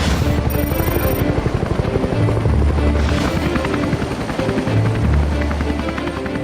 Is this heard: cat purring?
no